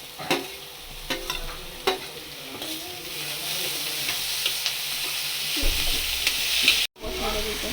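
Grated carrots stir-fried in a hot pan for fried momos sizzle steadily, with spatula scrapes and stirring knocks scattered throughout, close and fairly loud, ending with a brief break.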